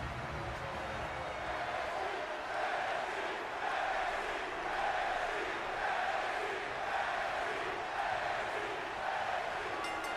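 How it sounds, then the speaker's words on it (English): A large wrestling arena crowd in the video game WWE 2K20 roars and cheers continuously, a dense wash of voices rising and falling slightly, fairly distant and steady. "Would you listen to this crowd?"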